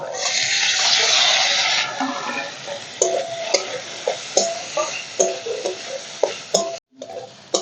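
Soaked flattened rice (chira) is lifted from water and squeezed out by hand: first a splashing, running-water rush, then a series of short wet squelches and drips, close and distinct, with no talking.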